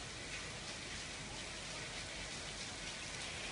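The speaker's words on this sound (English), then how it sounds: "rain poured off the roof, creating a waterfall as students and teachers huddled, then ran for cover" Heavy rain pours off a school roof during a Southern California storm, a dense, steady, even hiss and splatter filling the whole stretch with no voices.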